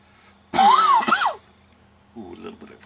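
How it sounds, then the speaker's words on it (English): A single throaty cough and throat-clearing right after a sip of coffee-forward barrel-aged Belgian triple beer, close and loud, with a rising voiced rasp, then quiet before a soft murmur. "a little bit of a coffee cough there"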